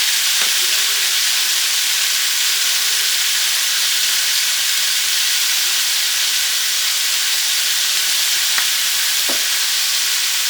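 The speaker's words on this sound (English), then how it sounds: "So we're just going to saute that down until those vegetables start to get soft" Garlic and leeks, seasoned with salt and pepper, sautéing in a pan for braised beef, giving a loud, steady close-up hiss and sizzle with a few faint scrapes and no talk.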